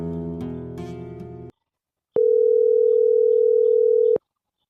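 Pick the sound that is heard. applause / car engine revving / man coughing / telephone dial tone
telephone dial tone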